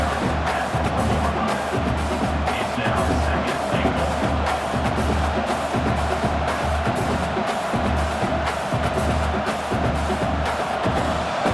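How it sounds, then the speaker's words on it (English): A large stadium crowd in the video game College Football 26 roars continuously during Auburn vs Oklahoma, a dense, loud wall of cheering and noise with no pauses. "the crowd really making some noise now, trying to help out this defense"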